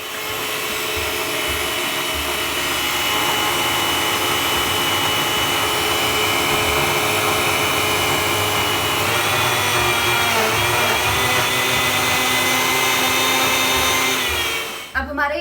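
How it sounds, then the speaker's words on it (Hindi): A kitchen electric blender whirs loudly and steadily while blending a sweet shake with a spoonful of added ingredient. The drone holds for about fifteen seconds, its pitch shifting slightly as the mix loosens, then cuts off abruptly. "एक बड़ा चम्मच ये हमने ऐड किया और अब हम इसे ब्लेंड करेंगे"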